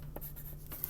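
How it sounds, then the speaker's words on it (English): Pencil or pen strokes scratch across exercise paper as a word is written, a few short quick scrapes close by in a quiet room. "I'm just going to write it right here."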